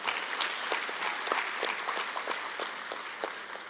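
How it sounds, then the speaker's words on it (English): An audience at an oral history conference applauds steadily, a moderate round of clapping that holds through to the end before easing slightly. "Can we give them a round of applause?"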